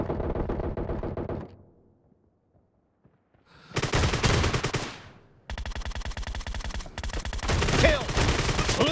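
Repeated blasts of an M1014 shotgun fired in PUBG Mobile team deathmatch, loud and close, in two bursts separated by a brief near-silent pause, the later stretch dense with rapid shots.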